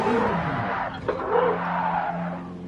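Tires squeal and skid in a racing video game as the car's rear end slides out in second gear through a chicane near the Alsace stage, a loud continuous screech over the engine drone, with no voice.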